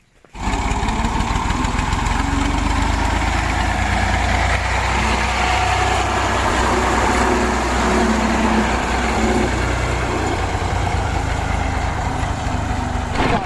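A parked tractor engine idles in a village, a steady loud low rumble with constant chugging that continues unbroken from start to finish with no speech.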